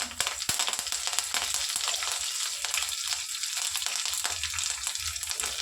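Mustard seeds, cumin and curry leaves sizzle and crackle in hot oil with a loud, continuous fry and scattered popping spatters, close and with no talking.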